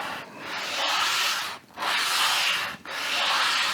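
Hand sanding with long, even rasping strokes, three sustained passes separated by brief pauses, loud and close with no voices.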